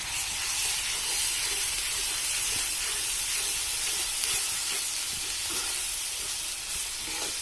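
Masala roasts in a pan for a spicy village-style egg dish, giving off a continuous, even sizzle and steamy hiss close by with no talking.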